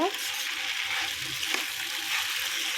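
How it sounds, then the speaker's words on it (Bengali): Chicken pasta is stirred and mixed in a hot pan, giving a steady close hiss of frying with soft scraping throughout. "ভালো করে নেড়ে চেড়ে সব মিশিয়ে নেব।"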